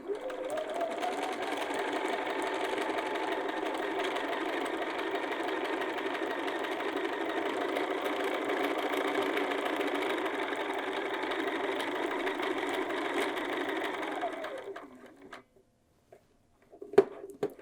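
A sewing machine runs in one long steady burst while stitching a pocket, loud and continuous for about fifteen seconds, then stops, followed by a few faint handling clicks.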